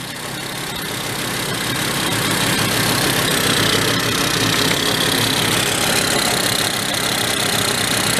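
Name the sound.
1970 Benelli mini bike engine idling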